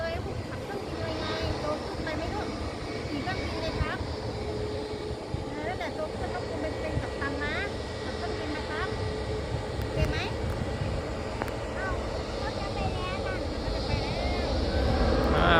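Loud, sustained roar of a Nok Air airliner's engines building steadily as it accelerates for takeoff at an airport, with faint voices and background noise mixed in.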